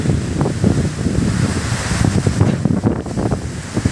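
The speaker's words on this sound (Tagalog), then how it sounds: "Grabe, ang bagyo naman." Strong, gusting typhoon wind roars steadily with broadband rushing noise and heavy buffeting against the microphone, with no voices.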